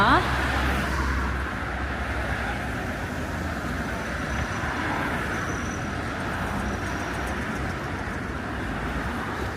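Busy road traffic in Tashkent at night, a steady broadband rumble of passing vehicles heard from nearby, continuous and fairly loud without distinct individual pass-bys.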